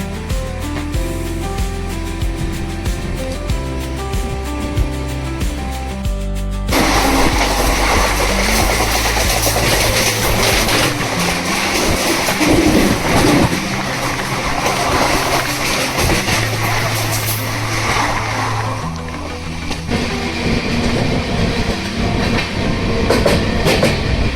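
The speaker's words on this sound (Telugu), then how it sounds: "టైంకి అయితే మనకు ఒంగోలులో ట్రైన్ బయలుదేరింది" Simhapuri SF Express sleeper train rolling on the rails after leaving Ongole, a steady loud rumble with rhythmic clatter of the wheels throughout; a tonal hum or horn-like drone sits in the opening seconds before the full running noise takes over.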